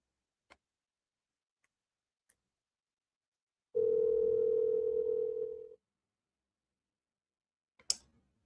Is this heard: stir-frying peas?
no